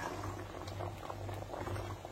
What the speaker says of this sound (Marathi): आणि आता साखर आपल्याला त्याच्यात परत मिक्स करून घ्यायची आणि परत उकळवायचे